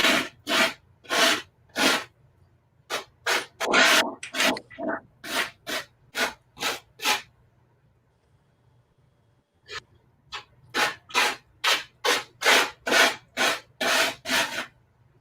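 Rhythmic strokes of sanding on a painted surface, short rasping bursts in two steady runs separated by a pause, close and fairly loud with a low background hum and no talk.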